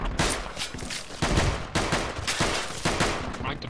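Dense overlapping gunfire from the military shooter game Project Reality, with repeated loud bursts and fusillades that continue without a break, and faint voices underneath.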